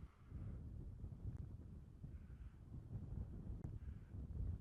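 Wind gusting steadily across an open safari landscape at sunset, a continuous low rumble buffeting the microphone from start to finish with no voices.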